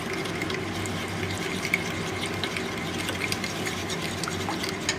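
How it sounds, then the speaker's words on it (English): A spoon stirs a rosemary lemon dressing in a bowl, producing a steady, continuous scraping and sloshing with small clinks, close and moderately loud, with no talking. "Now I'm just going to stir this around."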